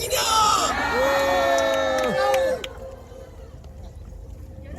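A large crowd at an outdoor rally on Yeouido plaza in Seoul shouts and cheers loudly and continuously, mixed with a held amplified voice, then quickly drops away to quieter murmuring.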